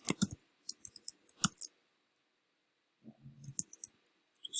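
Computer mouse clicking while working in image-editing software, a series of crisp, close clicks in quick pairs and clusters separated by short quiet gaps, with faint desk handling between.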